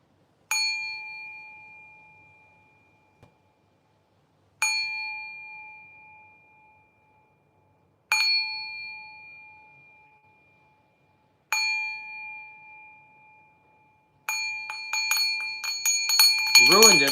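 A meditation bell rings four times at slow, even intervals, each clear metallic strike decaying for several seconds. A final strike is followed by a rising clatter of overlapping rings.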